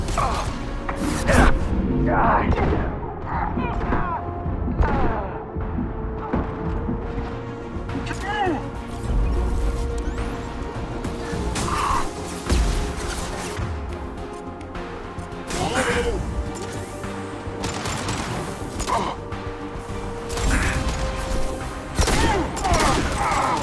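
Gunfire in the sci-fi shooter Mass Effect 2, with dense bursts of weapon fire, impacts and mechanical clanks running throughout alongside game music, while voices talk over the combat.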